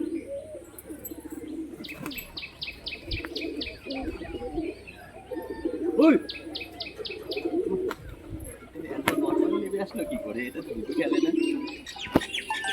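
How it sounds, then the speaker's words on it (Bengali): Male and female domestic pigeons coo repeatedly in close, throaty rolling phrases, with chirps and a little wing movement between them, while a person talks over them. "এটা হচ্ছে নর পায়রা, এটা হচ্ছে মাদি পায়রা"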